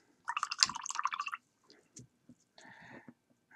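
A paint brush is swished and rinsed in a small pot of water, brief wet clinking and sloshing followed by a few faint taps and a short scrape, close and quiet.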